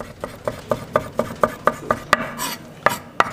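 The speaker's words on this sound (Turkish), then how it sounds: "İnce şekilde doğruyoruz." Knife chopping lamb head meat thinly on a board, about a dozen sharp, evenly paced chops close by, each a crisp knock with a bright edge, with a brief scraping sweep partway through.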